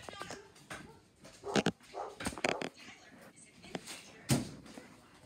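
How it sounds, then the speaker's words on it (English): Dogs bark outside a house in several short, scattered bursts, fairly faint and distant, with a few whimpering yips and a louder bark near the end over quiet indoor background noise. "You can hear them barking outside."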